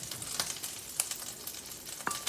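Thick grits in a hot pot just off the heat, a soft steady sizzle with a few scattered faint pops, quiet and close.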